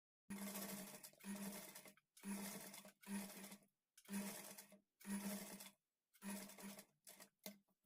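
A sewing machine runs in short bursts as it edge-stitches lace onto a blouse back neck, about eight close, loud whirring runs, each with a steady stitching hum, separated by brief pauses.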